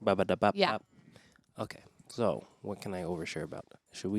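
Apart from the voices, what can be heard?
No everyday noises stand out.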